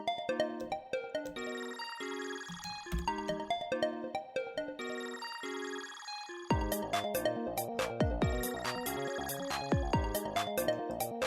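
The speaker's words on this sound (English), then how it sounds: "Is this just the full song as a ringtone?" A phone ringtone plays a full song rather than a short tone: a bright, melodic electronic tune with clear repeating notes, denser and louder in its second half, heard alone without talk.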